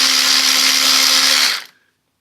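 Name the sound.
removing self-tapping seat screws on 1982 Yamaha Seca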